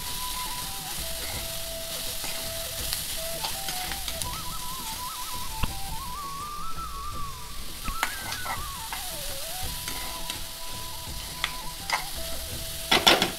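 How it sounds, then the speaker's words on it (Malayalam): Cabbage hits hot oil with popped mustard seeds for a home Onam meal, making a loud continuous sizzle and stir-fry crackle, with a thin wavering melodic tone faintly running over it. "നമ്മുടെ കടുക് പൊട്ടി വന്നിട്ടുണ്ട്. ഇനി അതിലേക്ക് നമ്മളുടെ ഈ മിക്സ് ചെയ്ത് വെച്ചിരിക്കുന്ന നമ്മുടെ ക്യാബേജ് ഇട്ട് കൊടുക്കാം"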